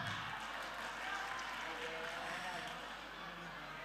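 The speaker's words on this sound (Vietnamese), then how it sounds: "quý vị chúng ta hãy cùng dành một tràng pháo tay để cảm ơn các cô gái được không ạ" Audience in a hall for a student talent show final gives sustained, dense applause that fills the room from start to finish, with scattered crowd noise mixed in.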